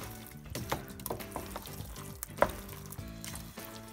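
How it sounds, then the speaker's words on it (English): Butter melting and sizzling in a pan with raw sliced apples for an apple pie filling, a close, steady frying hiss with gentle stirring and occasional soft clinks, no speech. "So you do this until that butter melts up."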